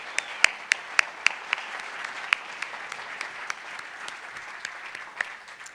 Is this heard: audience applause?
yes